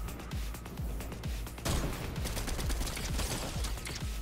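Rapid bursts of gunfire in the Fortnite no-build mode with jetpacks, repeating in quick, fairly even bursts over steady game background noise, with no talk.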